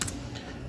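A single sharp click of the Enter key on a computer keyboard, with a second faint tap, close and isolated over a low room hum.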